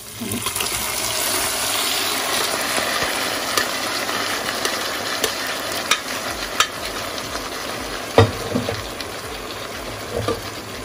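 Pressure-cooked beef is stirred into a frying masala in a pan, with a steady sizzle and scattered scraping and clinking spoon strokes, close and without speech.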